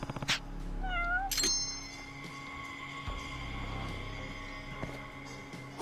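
Cat meowing in the Judgment video game, a couple of quick rising meows near the start, then a sustained hum of ambient game tones with a low drone underneath.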